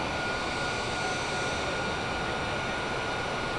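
Boeing 787 jet engines in flight in Microsoft Flight Simulator 2020 produce a steady, unbroken broadband roar with a faint constant whine, even and moderately loud throughout with no voices.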